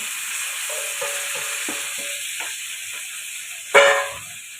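Pork rib meat searing in a hot pan, with a steady, close sizzle and a few light clatters of a utensil, then a brief louder hiss as the meat hits the oil.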